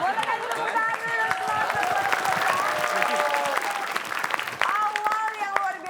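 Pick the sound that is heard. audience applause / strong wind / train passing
audience applause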